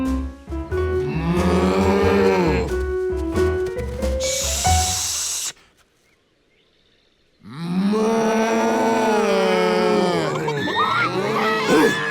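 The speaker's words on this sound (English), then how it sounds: "How could he quiet the cows?" Loud, drawn-out cow moos repeat close by, several overlapping calls, broken by a brief hiss and a moment of near silence, in an animated cartoon.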